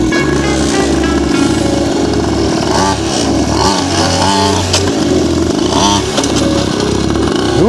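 A motorcycle engine revs hard and close, climbing and dropping in pitch through repeated throttle bursts as the rider tries to pull a wheelie, loud and continuous.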